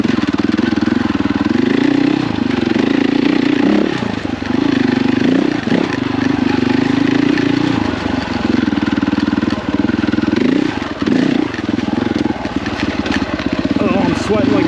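A KTM dirt bike engine on a rough single-track trail, loud and close, with a throaty drone that rises and falls in repeated throttle pulses and gear changes.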